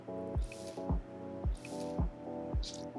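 A sponge rinsed in a bucket of water in House Cleaning Simulator, five or six evenly spaced wet squishes and drips repeating close up, with no talking.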